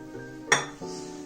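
A saucepan and metal utensils clink once in a single sharp clank that rings briefly over a steady background, as water and salt are measured into the pan for choux pastry.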